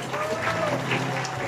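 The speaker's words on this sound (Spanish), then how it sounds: "Ese aplauso bien bonito" Applause from guests at a quinceañera celebration with a youth mariachi band, a steady, continuous wash of clapping with crowd noise throughout.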